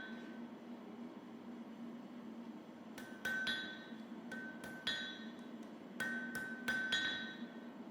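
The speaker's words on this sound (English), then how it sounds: "Then forge in the bend in the tang." A hammer forges the bend into the tang of a Japanese scabbard chisel, with about ten ringing metallic strikes after a quiet hum, some in quick pairs and each leaving a bright clink of steel on the anvil.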